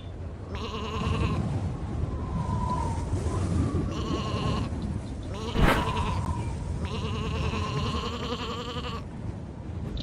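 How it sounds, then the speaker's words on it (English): Sheep in the platform game Isle of Ewe bleat repeatedly, several loud wavering calls overlapping one another, with a short sharp knock midway and a soft background bed beneath. "Ah, the sheep are bleating like crazy."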